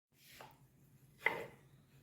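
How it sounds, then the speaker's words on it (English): Two short knife cuts through food on a cutting board in a home kitchen, the first soft, the second sharper and louder about a second later, with a faint low hum underneath. "You need to slice it."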